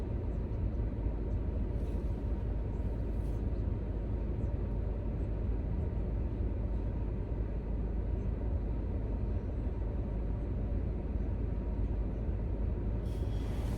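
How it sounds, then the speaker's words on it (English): A big truck making a turn, a steady low rumbling engine drone that holds through the whole stretch, fairly loud and close, with no talking over it. "This big ass truck,"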